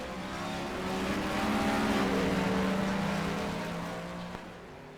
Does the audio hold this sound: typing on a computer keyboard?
no